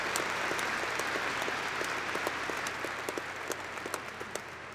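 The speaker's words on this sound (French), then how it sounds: "Et pour son amour, nous applaudissons le Seigneur, nous lui rendons gloire" A church congregation claps together in a sustained burst of applause, steady and full, with a few sharper individual claps standing out near the end.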